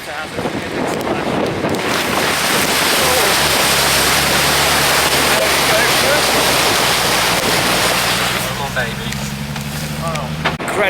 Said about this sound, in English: Water now, going through the water hazard.